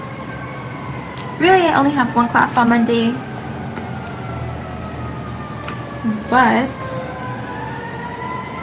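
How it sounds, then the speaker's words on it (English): Emergency vehicle sirens wail outside, a faint steady tone rising and falling through the background while someone talks in the foreground throughout. "sorry for the sirens in the background."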